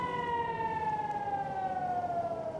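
An air raid siren wails over the northern Israeli coastal town of Nahariya at night during a Hezbollah rocket attack, one sustained, loud tone that slowly drifts downward in pitch.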